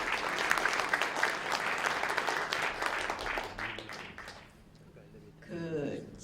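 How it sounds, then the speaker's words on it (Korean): Loud applause from a crowd, steady clapping that thins out and fades, followed by a brief burst of voices at the end. "큰 박수로 모시도록 하겠습니다"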